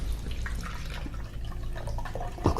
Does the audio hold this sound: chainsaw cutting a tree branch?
no